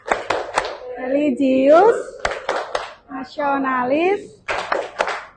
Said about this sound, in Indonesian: Tepuk PPK.